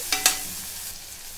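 A spoon scrapes twice through chopped tomatoes in hot oil tempering in a pan, two sharp close stirring strokes followed by a soft, steady sizzle, with no voices.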